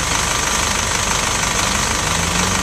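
An Isuzu 5.2 liter four-cylinder turbocharged 190 horsepower diesel in a 2007 GMC W4500 dump truck idles up close, a loud steady rumble with an even ticking knock and no voices.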